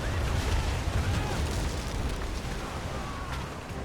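Ship cannons fire and explosions burst in an Assassin's Creed naval battle, a dense, loud barrage of booms and crackling blasts rolling together with voices shouting over it.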